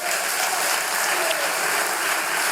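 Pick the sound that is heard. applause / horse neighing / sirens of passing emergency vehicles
applause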